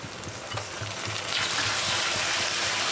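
A spice paste of ground cumin, coriander, ginger, garlic and dried chilli frying in hot oil for a meat curry, giving a steady close sizzle with soft stirring scrapes and low clatter throughout, no talking.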